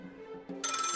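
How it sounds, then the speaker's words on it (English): A telephone rings in the comedy video game Lil Guardsman. A faint low tone is followed by a bright electronic ring that starts sharply and stays loud and steady. "The phone is ringing."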